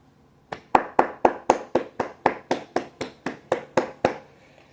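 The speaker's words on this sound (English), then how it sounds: "I couldn't help but to applaud for that artwork right there." About fourteen sharp hand claps in a steady, even rhythm, close and fairly loud, with no voices.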